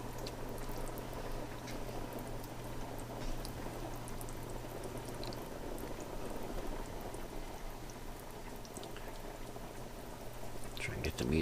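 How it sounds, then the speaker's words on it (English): Vegetable beef soup simmering in a pot on a stove, a steady low bubbling hiss running throughout with a faint hum, close and even, a few light clinks near the end. "these are going to simmer for several hours here on the stove"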